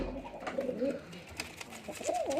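Caged pigeons cooing near and clear, a few soft warbling calls rising and falling over a quiet room background.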